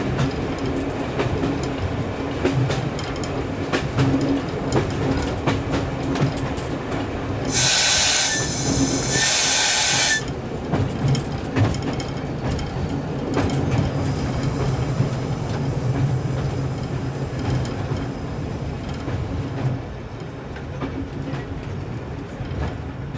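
A train runs along the Wensleydale Railway track, a steady close rumble with clickety-clack wheel noise and a brief loud hissing burst partway through, with no talk.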